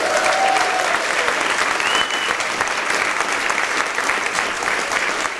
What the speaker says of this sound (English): Do give yourselves a cheer